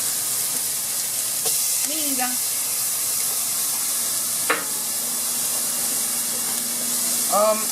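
Steady close hiss of onion sizzling in a hot pan with garlic, a continuous frying crackle with brief voices and small exclamations over it.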